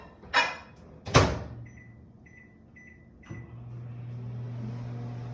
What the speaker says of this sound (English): So let's check our quesadilla in the microwave. Well, my cheese is not quite melted in there, so I'm going to heat it for just a smidge bit longer.